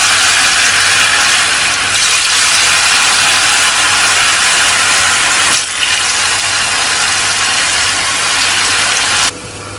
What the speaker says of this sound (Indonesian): Kalau sudah dipotong-potong semuanya, kita akan goreng terlebih dahulu tahunya.